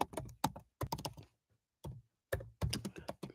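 Quick bursts of computer-keyboard typing, clustered rapid key clacks separated by short pauses, close and clear with no speech.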